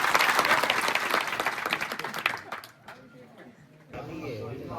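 An audience at a Thakor Samaj community meeting in Virol village breaks into loud, dense clapping that fades after a couple of seconds, followed by a brief lull and then a voice speaking.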